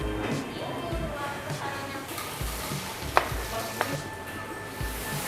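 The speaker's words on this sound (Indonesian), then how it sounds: "pakai telur juga ya, diorak-arik langsung di nasi gorengnya" Steady stirring and sizzling in a hot pan as egg is scrambled into frying rice, with a couple of sharp metallic utensil clinks.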